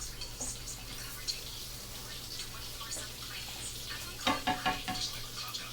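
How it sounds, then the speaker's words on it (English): Vegetables sauté in a pan with a soft, steady sizzle. A few quick scraping clatters of stirring come near the end, and no voices are heard. "Want to make sure your vegetables are good and sauteed."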